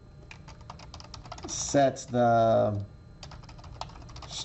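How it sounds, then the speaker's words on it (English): Quick, light keyboard typing close by, in bursts, with a brief spoken phrase midway. "I'm having a rough time typing"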